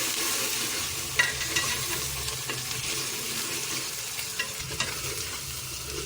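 Garlic and ginger paste frying in a pot for kofta curry, a steady close sizzle with intermittent stirring scrapes and a few light utensil knocks, no talking.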